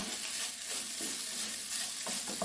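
Wheat rava upma is stirred in a pan, giving a steady soft sizzle with scraping strokes of a spoon, close and fairly quiet, with no voices.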